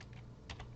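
Quick typing on a computer keyboard, a few soft key taps close by over a low background hum, with no one talking.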